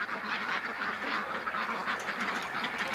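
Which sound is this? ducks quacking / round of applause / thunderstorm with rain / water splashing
ducks quacking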